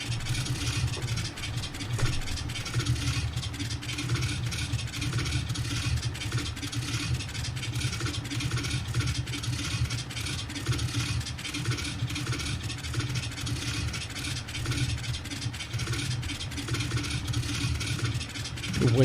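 A DHC-2 Beaver aircraft engine runs just after starting in Death Valley, a steady mid-pitched drone with an even, pulsing beat that holds for nearly twenty seconds and swells slightly at the end.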